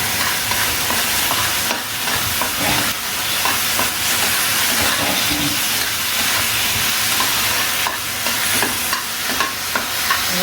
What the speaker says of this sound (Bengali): এটা নাড়াচাড়া করি।